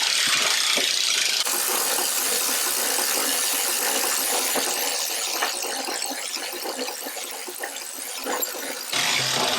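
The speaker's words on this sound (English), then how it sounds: "That gives you an idea how easy it is to crank this engine." Metallic ratcheting and scraping as an M3 Stuart light tank engine is turned over by hand, irregular clanks and squeaks, fairly close with no voices.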